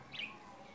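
A single brief, faint chirp from a small pet budgerigar escaped from its cage, heard against quiet room noise.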